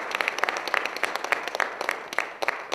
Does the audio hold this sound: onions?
no